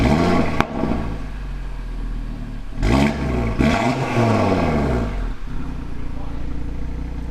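An Audi RS3/TT RS engine with a resonator-delete midpipe, exhaust valves open, idling with a deep exhaust rumble, rising in a few short revs before settling back, close up, with faint talking underneath.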